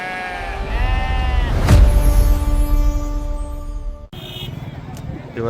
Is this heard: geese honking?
no